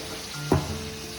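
Vinegar and soy sauce hit a hot pan for chowmein with a sudden burst of sizzling that quickly settles into a steady, softer fry.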